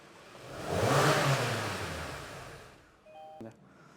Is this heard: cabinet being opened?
no